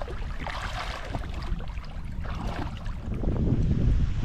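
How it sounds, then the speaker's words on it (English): Wind gusting across an open river sandbar on the Atchafalaya, a steady roar and buffet that swells louder toward the end, with no talk. "It's getting a little windy, so we're trying to hide from the wind a little bit."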